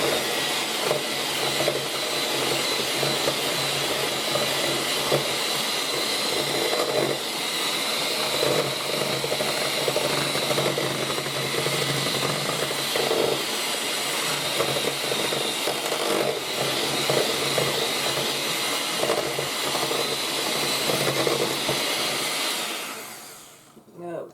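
An electric mixer beats vanilla into snowball cookie dough, a loud, steady motor whir that runs unbroken for the whole stretch before trailing off at the very end.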